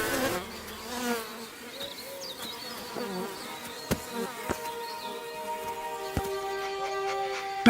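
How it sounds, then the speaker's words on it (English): Bumblebees buzz angrily as a warning, a steady droning hum with pitch wavering as wings beat, close and fairly quiet in a garden with a few faint clicks and knocks. "The workers' angry buzz is a warning."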